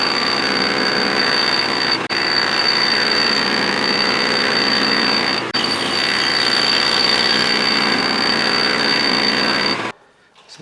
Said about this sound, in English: From here on out, all cuts are going to be angled using the compound.